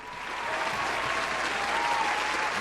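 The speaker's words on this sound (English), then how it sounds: "Round of applause." A steady burst of crowd applause, dense and even clapping that swells in at the start and holds throughout, with a faint tonal whine underneath.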